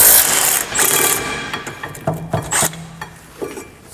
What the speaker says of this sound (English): Now, we're going to remove our pad bracket here.